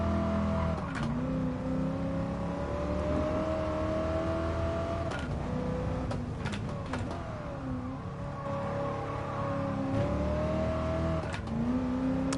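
A car engine in the video game GT Sport revs and accelerates continuously, its pitch climbing, dropping at gear shifts and climbing again, with a steady loud drone throughout.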